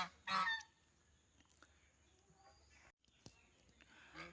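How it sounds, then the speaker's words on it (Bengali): Domestic geese, one gander and two females, let out a loud honk near the start, followed by quieter scattered calls and rustling outdoors, with faint talk in the background. "দুইটা মেয়ে রাজহাঁস ফিমেল রাজহাঁস একটা মেল রাজহাঁস"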